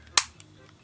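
A Madcatz clip-on light snaps onto a Game Boy Advance in one sharp, close plastic click, followed by near silence.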